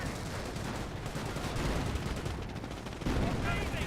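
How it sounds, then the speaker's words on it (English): Rapid gunfire and explosions from a World War II Company of Heroes battle, including a thrown grenade, crackling in dense overlapping bursts with a heavier blast near the end, all at steady loudness. "Grenades been thrown."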